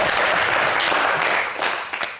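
A studio audience breaks into loud, sustained applause, a dense wash of clapping that tapers off near the end.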